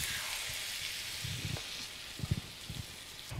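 Beaten eggs poured into a hot pan over ham for a Spanish tortilla, giving a steady loud sizzle with scattered crackles and pops throughout.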